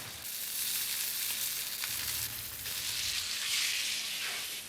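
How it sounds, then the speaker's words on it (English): Fillet of beef sizzles steadily as it is sealed in a hot pan, a continuous bright crackle and hiss that swells and eases slightly, heard close and alone without any talking. "Andrew's got the fillet of beef in the pan there that he's sealing"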